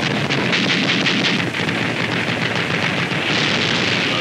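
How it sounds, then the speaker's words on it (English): Heavy WWII naval bombardment of shore installations on Elba, off Italy's coast, in an old newsreel: a loud, continuous roar of dense gunfire and blasts, rough and crackling, with no speech. "We open up with heavy bombardment of shore installations"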